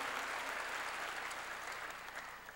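Church congregation claps during a sermon, a brief burst of fairly quiet, even applause that tapers off slightly toward the end.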